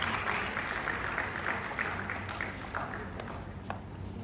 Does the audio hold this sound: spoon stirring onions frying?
no